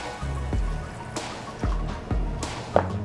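Water poured into a pan of white rice, a short run of drips, trickles and splashes as the liquid hits the grains and metal, close by with no talking.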